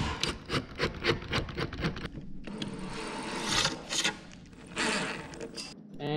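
A power driver turns screws into a wooden goose decoy stake, with a rapid train of short whirring, clicking bursts followed by a longer continuous grinding drive, close and moderately loud.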